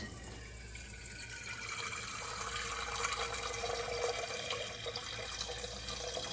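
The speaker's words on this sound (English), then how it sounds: "So let's fill this up with water." Water runs from a tap into a coffee maker's reservoir as a steady splashing trickle, rising slightly in pitch as the container fills, close and fairly quiet.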